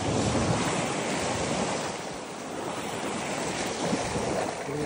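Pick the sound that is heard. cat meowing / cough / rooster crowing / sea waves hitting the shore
sea waves hitting the shore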